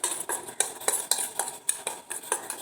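Spices being mixed in a bowl with a spoon for a custard apple (aathi chakka) fry, giving a close, steady series of scraping clinks and taps against the bowl, with no talking.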